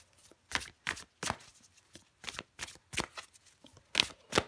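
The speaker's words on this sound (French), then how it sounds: "Allez, je prends encore une carte pour vous les Vierges" Tarot cards being drawn and flicked from a deck, a series of sharp papery snaps and slides arriving in uneven bursts, close and quiet with no talking.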